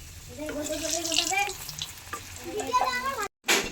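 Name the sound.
frying food in a pan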